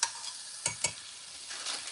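Seasoned food is stirred and chopped in a hot pan under a steady sizzle, with two sharp utensil scrapes near the middle and softer stirring after.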